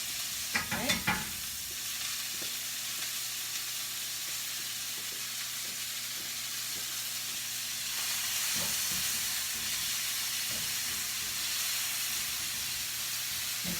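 Onions sizzle in a pot while cooking for pollo caldero, with a quiet, even hiss of frying that runs throughout. A few brief stirring clatters come near the start.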